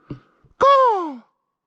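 A handheld crow call device blows a single loud, nasal caw after a brief soft breath, imitating a crow's call on a trail.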